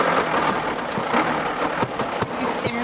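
A boosted Ford Transit van conversion with badly worn engine mounts runs steadily and loudly up close, its engine note holding broadband and rough with a few sharp transient knocks near the end.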